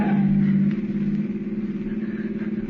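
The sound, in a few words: car engine revving in a radio drama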